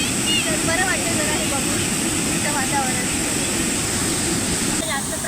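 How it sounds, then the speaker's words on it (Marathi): Dam water released as a waterfall below the dam at Verwali in Lanja, Ratnagiri, a steady loud broadband roar of falling water that stays constant, with a person talking over it. "इथे हा जो धबधबा बघितल्यावरती प्रचंड असं थंड असं वातावरण वाटतं"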